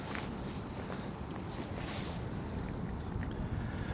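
Cold north wind on a riverside embankment in Kyiv buffets the microphone with a constant low rumble and rushing noise, loud and unbroken from start to finish.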